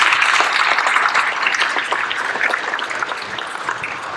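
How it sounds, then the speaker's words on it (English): Audience applauding steadily after a high school band's spring concert performance, a dense wash of clapping hands that fills the room throughout and tapers only slightly toward the end. "So another round of applause for the students."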